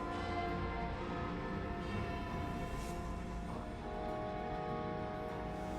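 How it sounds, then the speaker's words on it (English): Eerie ringing bells in the Sunless Skies video game, sustained metallic tones layered into a dense, droning wash that hangs at a constant level for several seconds without talk. "those bells were a bit more disturbing than I expected them to be"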